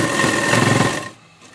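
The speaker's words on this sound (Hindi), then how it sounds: "उधर हम बगल से 6 इंच नीचे तक सिलाई करेंगे।" A sewing machine stitching the side seam of a burqa, a rapid mechanical whirring rattle of needle strokes for about a second before stopping abruptly.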